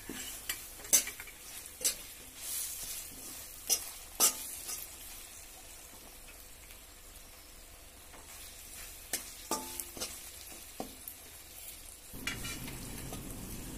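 Green chillies stirred with coriander and spices in a pan, a soft sizzle under irregular clinks and scrapes of a spoon against metal, with a sharp change to a duller tone near the end.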